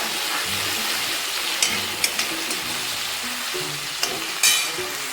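Potatoes with salt stir-fried in a pan for a fasting meal: a continuous sizzling fry hiss with several sharp scrapes and taps of a spatula, close by.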